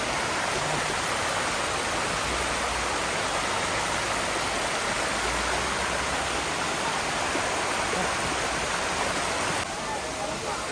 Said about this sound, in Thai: โอ้โหดูน้ำตก โอ้โห น้ำตกไซโยด